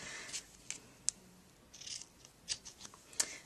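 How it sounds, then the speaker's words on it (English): Dull scissors snip the loose ends of a tied knot on a handmade birthday banner, a few short, crisp clicks spaced irregularly in a quiet room. "Oh, my scissors are getting dull."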